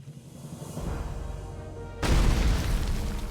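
A cannon in World of Warcraft fired by tugging its igniter cord, a low rumbling build-up that breaks into a sudden loud, close boom which rolls on heavily to the end.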